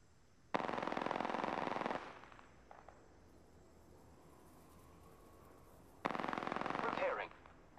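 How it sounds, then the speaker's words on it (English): Automatic gunfire in the Apex Legends battle royale video game: two sustained rapid-fire bursts, each over a second long, separated by a quieter stretch with a few faint shots and game sounds. "opening fire on the enemy."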